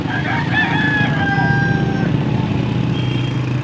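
Gamefowl roosters crow at a market stall in Angeles, Pampanga, one loud crow in the first two seconds with fainter calls and clucks after, over a busy low rumble of crowd and traffic.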